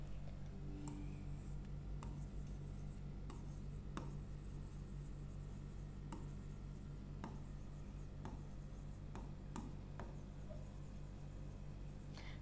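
Pen writing an answer by hand on paper during a history lesson, a steady scratchy scribble with soft ticking taps of the pen, close and continuous over a low constant background hum.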